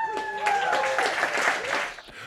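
Crowd cheering and whooping at a Neuralink event hosted by Elon Musk, a dense burst of voices and some clapping rising for about two seconds before fading, with whistle-like tones over the din.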